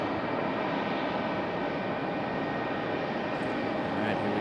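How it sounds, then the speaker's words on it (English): Breeze Airways A220 airliner touching down at Raleigh-Durham International, a loud, steady broadband roar of engines and rushing air filling the whole stretch. "we just had our Breeze A220 touchdown"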